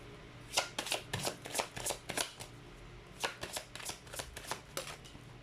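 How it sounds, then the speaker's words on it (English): A deck of cards shuffled repeatedly, crisp riffling bursts in quick clusters with short pauses between, close and clear in a quiet room, no talking. "let's pull up another set of cards"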